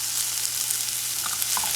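Tortillas and onions for migas fry in a pan with a loud, constant sizzle and crackle, close up, with a few light utensil taps.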